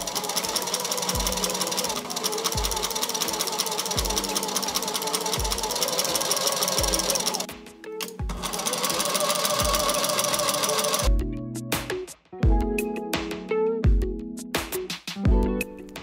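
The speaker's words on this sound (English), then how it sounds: "The first seam will be sewn at a quarter inch." Sewing machine running a quarter-inch seam on camisole fabric, a steady rapid needle clatter with brief pauses and restarts near the end, close and loud with no talking.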